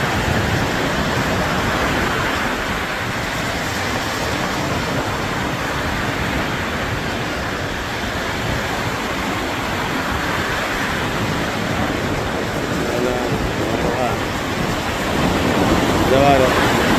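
Sea waves washing on the Red Sea shore at Hodeidah, Yemen, a steady broadband roar of surf and wind running continuously at moderate loudness, with faint voices mixed into the background.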